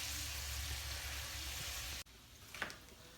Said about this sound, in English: we're adding some garlic to infuse it with the butter. And then this is on low, waiting for our beautiful shrimp